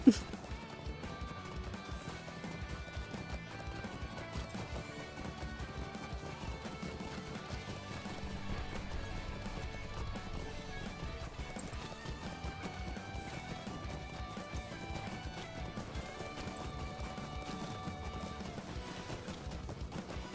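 Horse hooves clip-clop in the video game LOTRO, a steady rhythmic patter running under a continuous musical score for the whole stretch, without talking.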